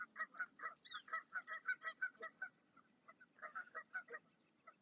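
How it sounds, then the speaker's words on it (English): A goose honks repeatedly at a lake, a steady string of nasal calls in two bursts with a short pause between, moderately close and otherwise alone. "There tends to always be a grumpy goose up on that little island."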